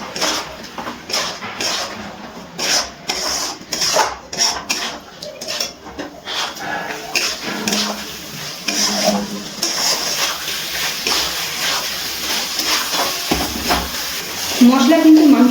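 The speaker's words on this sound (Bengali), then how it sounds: "এবারে সব মশলা একসাথে মিশিয়ে ভালো করে আবারও কষিয়ে নিচ্ছি।" Spices and mutton are stirred and fried together in a pan over a medium gas flame, with a spoon scraping and clattering against the metal in uneven strokes, then a steadier wet sizzle building near the end, while a voice talks over it.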